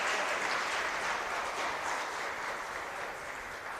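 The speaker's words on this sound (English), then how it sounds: "Please give her a warm round of applause." Sustained applause from an audience at a tourism youth expo and career fair panel, a dense steady wash of clapping that fades slightly toward the end, with no voices over it.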